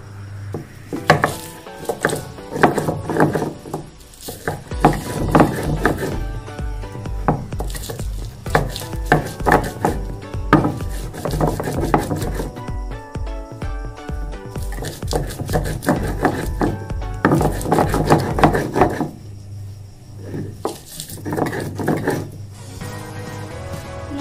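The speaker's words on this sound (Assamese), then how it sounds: "লগতে মই এতিয়া পিছি ল'ম পিয়াজখিনি" Onions cut with a knife for an Assamese fish curry, producing close, irregular runs of crisp chopping taps on a board, with occasional louder clusters and pauses.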